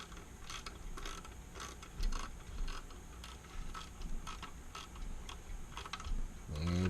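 A ratchet wrench tightens a nut while reinstalling a microswitch and rocker panel, giving a steady run of rapid clicking pawl ratchets close up for several seconds, with a heavier clunk near the end.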